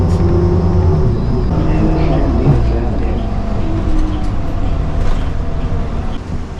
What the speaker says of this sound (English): The other bus on this street.